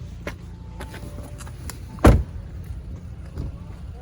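The electronic parking brake engages in a 2019 Audi S4, a single close mechanical thunk with a brief whirr inside the quiet cabin, surrounded by faint clicks.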